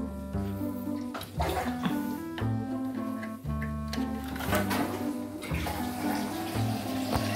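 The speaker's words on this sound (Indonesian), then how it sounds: "Ini posisinya pompanya sudah hidup." An aquarium pump running, pushing water through a sump filter with a box overflow: a steady, close, continuous rush and gurgle of flowing water with no break.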